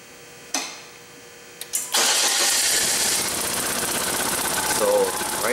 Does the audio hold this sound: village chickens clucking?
no